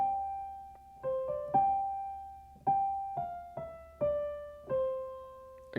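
Slow solo piano lead line for the worship song "Take You At Your Word", about eight single notes struck one at a time, each ringing out and fading before the next, clear and close.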